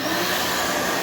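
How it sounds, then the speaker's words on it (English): A small shop vacuum cleaner runs steadily near a table saw, giving a loud, continuous whooshing roar with no talk over it. "I'm going to turn my little vacuum cleaner on back here"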